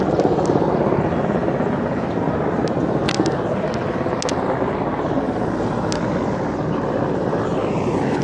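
A rescue helicopter flies over floodwaters at Melamchi in Sindhupalchok, Nepal, with a loud, continuous rotor drone and engine roar that holds steady throughout.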